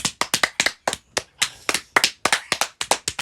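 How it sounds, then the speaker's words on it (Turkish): A few people clap in a small indoor setting, with about a dozen sharp, distinct claps in an uneven rhythm, close and loud. "Alkış alalım"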